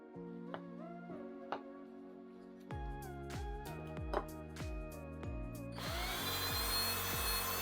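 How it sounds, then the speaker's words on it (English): A power drill whirs in short bursts, its motor winding down after each, then settles into a steady grinding as the bit bores a wire hole through a wooden lamp base. "I also drilled a hole in the middle of the base for the wire to pass through"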